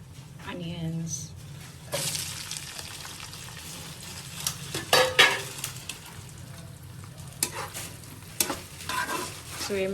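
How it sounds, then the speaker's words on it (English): Onions sizzle and fry in ghee with cumin while being stirred in a pan, a steady close crackle broken by scraping utensil strokes and clinks, with a voice talking at times. "sizzle,"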